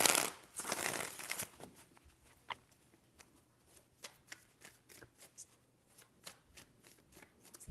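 Tarot cards are shuffled close by: a loud riffle at the start, then a run of soft, quick card taps and slides.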